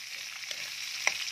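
Onion tipped into a pan where garlic is already frying, giving a short, steady sizzling hiss with one sharp click near the end and no talking.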